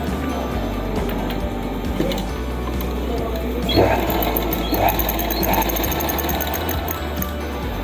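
A sewing machine stitches the seams joining the legs of palazzo pants, running in a steady continuous whir close by with slight shifts in pace and no talking.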